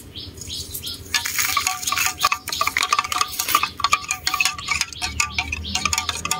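A heaping spoonful of black coffee is stirred to dissolve, a spoon clinking and scraping rapidly against the container in a quick irregular rhythm, with faint birds chirping in the background.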